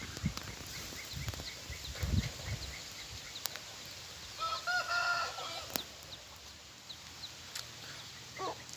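Roosters crow in the distance over faint outdoor background noise, with a nearer clucking crow in the middle and scattered soft knocks.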